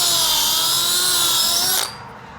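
A power drill bores a pilot hole into the wood of a chicken coop, a loud steady high whine close by that winds down abruptly near the end.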